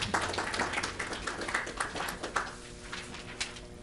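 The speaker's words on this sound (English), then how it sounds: "It's always great to have people applaud alley vacations." Applause from people attending a village board meeting, a modest group clapping steadily with scattered sharp claps, fairly quiet and continuing for a few seconds in a meeting room.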